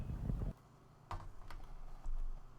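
An IBM Model M mechanical keyboard is typed on in short bursts, clacky keystrokes close by with brief gaps between them.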